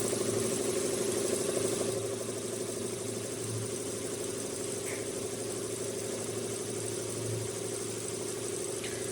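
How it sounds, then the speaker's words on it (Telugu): An automatic computer embroidery machine in a manufacturing unit stitches with a new thread colour, producing a steady, continuous mechanical hum and drone with no talking. "వేరే కలర్ ఎంబ్రాయిడరీ చేయడం స్టార్ట్ చేసింది."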